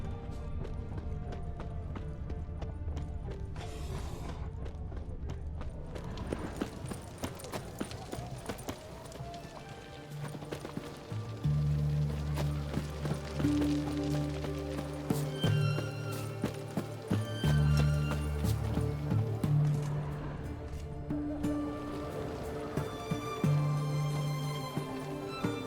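Horse hooves clip-clop in the Witcher 3 game world, a steady run of hoofbeats under layered music and game ambience, with a brief whinny, fairly close and continuous throughout.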